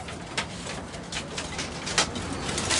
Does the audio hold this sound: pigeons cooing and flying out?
yes